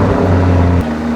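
A Lamborghini roars close by in a brief, loud, steady engine drone that drops in pitch as it passes.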